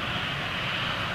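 Air Transat Airbus A330 with Rolls-Royce Trent 700 engines, heard at London Gatwick as a steady, broad, loud engine roar that holds level throughout without any talking.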